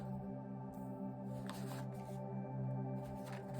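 Karma oracle cards being shuffled during a tarot-style reading: a few quick, soft riffling bursts over a steady background hum, close and quiet.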